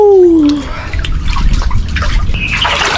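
Cold water splashing and sloshing, as in people bathing in an improvised pool, with a loud, busy spray of broadband splashes following a brief vocal whoop at the start.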